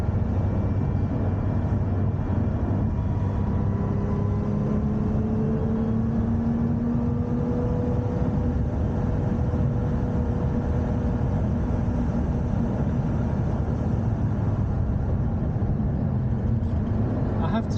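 A Lotus Emira V6 manual sports car drives on a track, its engine droning steadily with slow pitch sweeps through gear changes, heard from inside the cabin under voices talking.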